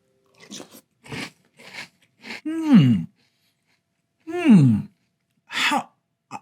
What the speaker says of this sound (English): Let's try strawberry vanilla Chex in milk.